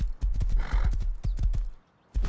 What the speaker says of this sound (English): horse is really slow.